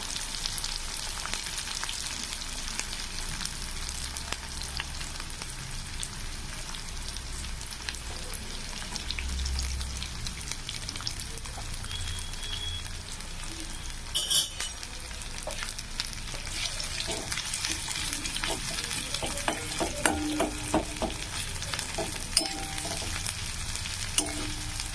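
Finely chopped onion sizzles with green chillies in a pan for aloo methi, a steady crackling fry with occasional stirring scrapes and a few sharper pops near the end.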